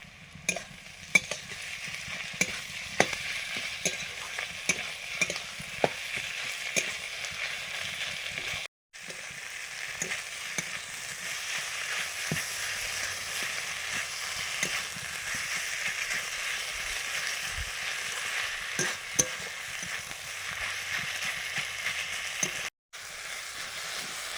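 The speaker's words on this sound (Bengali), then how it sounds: "বাটা মশলাটা দিলাম এখানে আছে জিরে ধনে শুকনো লঙ্কা বাটা" Ground paste of cumin, coriander, dried chilli and garlic sizzles and fries steadily in a pan for a home-cooked meat curry, with a continuous close crackle, scattered sharp spatters and brief stirring scrapes, no voices.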